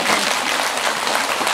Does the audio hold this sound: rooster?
no